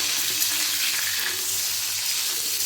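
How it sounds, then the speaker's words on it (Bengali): Pointed gourd (potol) pieces frying in hot oil for potol gobindo give a steady, dense sizzling hiss that stays even and close throughout, with no voices. "এক পিঠটা ভাজা হয়ে গেছে এবার উল্টো করে সব একসাথে ঘুরিয়ে ঘুরিয়ে ভেজে নেব"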